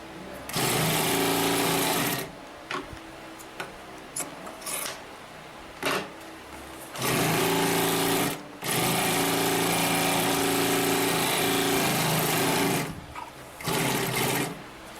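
Consew P1541S-CC industrial sewing machine stitching through eight layers of material, loud close motor hum and rapid needle chatter in several sustained runs broken by brief stops, with no talk.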